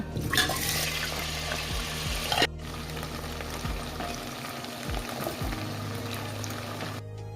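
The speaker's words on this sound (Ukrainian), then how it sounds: "У каструлю наливаємо олію та обсмажуємо злегка подрібнені овочі." Chopped vegetables sizzle and crackle in hot oil in a pot, a dense continuous frying hiss with occasional stirring clatter, close and fairly loud, no voices.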